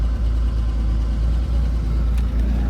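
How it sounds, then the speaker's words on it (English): A 1975 Porsche 911 engine runs steadily just after starting, a loud, close, even mechanical thrum with regular low pulses and no voices. "Fires right up."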